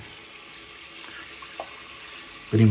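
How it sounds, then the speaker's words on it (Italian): A household tap runs hot water into a sink in a steady, even hiss of flowing water, close and continuous, with a brief louder bump at the very end. "intanto faccio scorrere un po' d'acqua per prendere un po' d'acqua calda"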